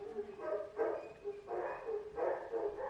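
Faint, distant barking from a neighbour's dogs, plus a household dog, comes in a series of muffled bursts over low background hiss.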